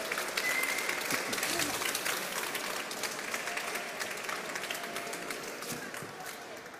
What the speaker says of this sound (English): like to join me in a round of applause